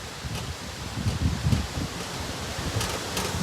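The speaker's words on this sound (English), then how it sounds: "that wind's picking up pretty good here too." Gusty wind from Hurricane Ian on the Charleston waterfront, rustling leaves in broad, noisy surges with a couple of stronger gusts partway through, steady and fairly close with no voices.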